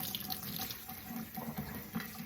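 Warm tap water runs steadily into a sink while tomatillos are rinsed under it, a constant close splashing hiss with small irregular spatters and no talking.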